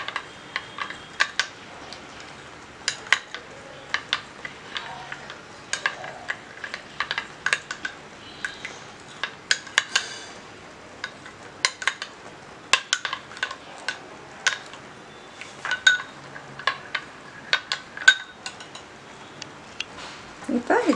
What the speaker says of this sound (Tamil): இதை வந்து நம்ம நல்லா கலக்கி விட்டுடலாம்.